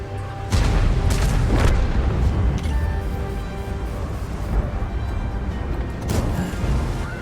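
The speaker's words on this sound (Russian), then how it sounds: "О, стреляет, да, арта вот" Artillery firing in World of Tanks, with deep booms from heavy guns: a strong blast near the start, another soon after, and a later one, each rumbling out over a continuous low background roar.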